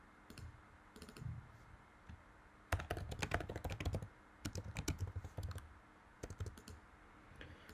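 Computer keyboard typing in a quiet room, delivered as several bursts of rapid close-up key clicks separated by short pauses, with no voices.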